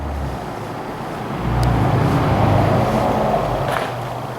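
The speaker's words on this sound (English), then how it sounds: "All these cars coming by, it's kind of weird." Cars passing along a roadway beside a rural Oklahoma spot, a steady rushing roar of traffic that swells midway as a vehicle goes by close, with continuous engine and tyre noise throughout.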